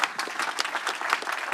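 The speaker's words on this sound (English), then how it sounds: "give Lotte also an applause" An audience at a panel workshop on offshore wind energy in the Netherlands claps for a speaker, a brief burst of steady, fairly close applause.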